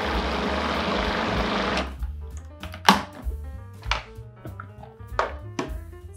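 A kitchen blender whirs loudly through roasted red pepper hummus for about two seconds, then stops, leaving scattered clunks and knocks as the jar is handled.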